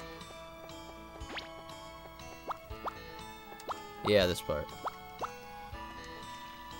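Watering crops in Harvest Moon 64, with short plopping, dripping water effects over game music, a brief splashy burst in the middle, and someone talking over it.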